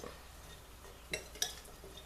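Cricket-broccoli salad with bacon being mixed in a bowl, faint soft rustling with two brief clinks of a utensil against the dish, close and quiet.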